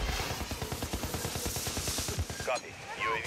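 Rapid automatic gunfire from Call of Duty squads on the Urzikstan map, a dense rattling stream of shots lasting most of the moment, then a brief pause with lighter game effects at the end.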